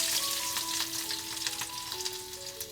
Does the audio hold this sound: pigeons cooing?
no